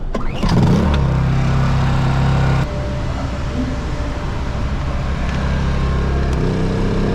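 A car engine cranks and catches in a parking garage at an airport terminal, then settles into a steady, loud idle that runs on with no talk over it.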